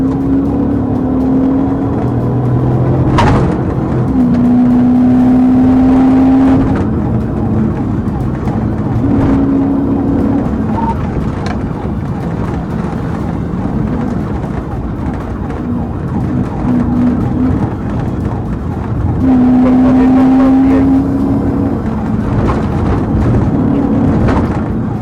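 A car speeds past 100 mph through a police chase, heard from a dashcam as a steady loud road and engine roar lasting throughout, with intermittent siren-like tones rising over it.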